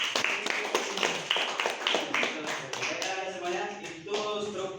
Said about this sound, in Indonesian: Tepuk tangan untuk Febri Rati.